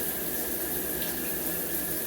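Water runs steadily from a loose shower mixing valve in a bathroom, a continuous close hiss of tap flow that holds even for the full stretch with no talking.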